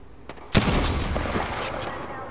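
A heavy gunshot cracks out in the Apex Legends video game, one sharp loud blast followed by a sustained rumbling tail, with a fainter shot just before it.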